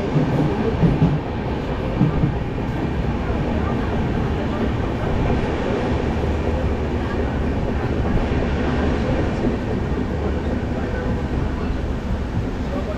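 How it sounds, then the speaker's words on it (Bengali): The Padatik Express runs through Dankuni Junction with a loud, steady rumble from inside the carriage, wheels rolling continuously for the whole stretch. "এখন আমাদের ট্রেন পার করছে ডানকুনি জংশন"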